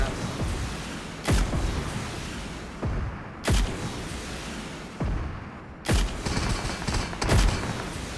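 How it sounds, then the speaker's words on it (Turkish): Gunfire in the PUBG Mobile video game cracks out in four loud, sharp bursts spaced about two seconds apart, each followed by a fading tail over a continuous rumbling background. "Nereye sıkıyorsun? Bana mı sıkıyorsun?"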